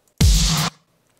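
One big electronic snare hit, a loud burst of bright noise with a punchy low body, lasting about half a second before cutting off.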